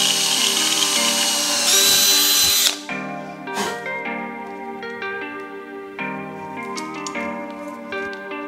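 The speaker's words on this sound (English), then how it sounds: "I'm gonna drill into these little spacers we made" A power drill bores into small metal spacers for a tailgate kitchen plate on a Land Rover Discovery overland build, a loud steady whine for nearly three seconds, then a quieter run of intermittent ticking and tapping with no talk.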